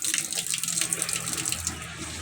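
Water runs steadily from a tap after a 12-gallon pressure tank is reinstalled, a close, continuous splashing stream with no talk.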